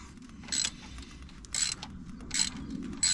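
A ratchet working on a 14mm bolt on a Nissan 300ZX twin turbo, giving several separate bursts of rapid close clicking, each short, spaced about a second apart in a quiet workshop.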